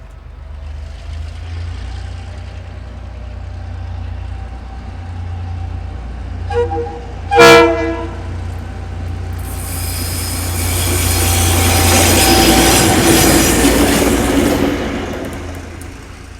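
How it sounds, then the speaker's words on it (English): Diesel locomotives DC 4058 and 4260 rumble past a station in Hamilton, a steady low engine drone with a brief horn toot midway, then louder rushing and rattling of the passing train swelling toward the end. "DC's 4058 and 4260 went past the station again"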